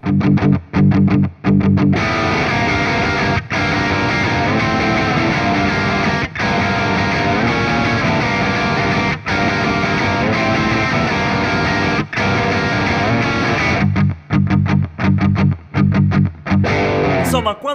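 An electric guitar plays through its bridge pickup with maximum distortion, sending out a loud, dense, continuous wall of saturated chords. Short choppy muted strums open and close the passage.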